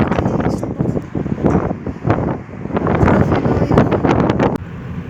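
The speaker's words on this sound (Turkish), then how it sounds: "İnanılmaz soğuk bir rüzgar var yine." Cold wind blowing hard outdoors on a street while waiting for a minibus, buffeting the microphone with loud, continuous roaring gusts that swell and dip, with no voice over it.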